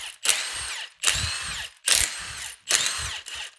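A power tool spins off the lug nuts on old Koenig wheels, sounding in four sharp, evenly spaced bursts, each a loud whirring rattle that fades before the next.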